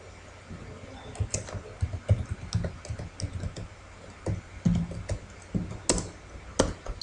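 Keys clack on a computer keyboard in a run of close, irregular taps of varying loudness, with brief pauses between bursts while text is entered into a LaTeX document.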